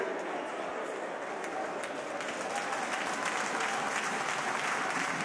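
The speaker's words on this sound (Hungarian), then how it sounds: "Biztató taps." Crowd in the stands applauding encouragingly at a basketball game between Egis Körmend and BC Balkan. A dense, continuous patter of many hands fills the arena steadily throughout.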